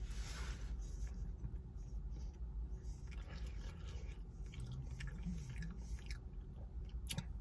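Close, steady chewing of a Burger King pretzel burger bun, soft moist crunching alone throughout, with a faint low rumble of passing traffic underneath.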